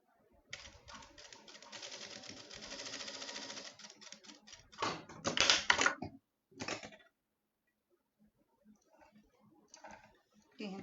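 Sewing machine stitching decorative ribbon onto a curtain: a rapid, close mechanical clatter in bursts, then scattered clicks and handling noises with pauses.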